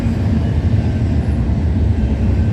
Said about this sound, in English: this eastbound intermodal mixed freight train was for CPKC